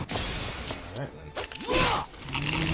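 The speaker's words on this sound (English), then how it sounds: "Why does it sound like it's sipping on an empty glass?" A clinking, glass-like chime from the video game Lost Odyssey rings out amid game effects, with a brief shattering sparkle and a voice talking over it.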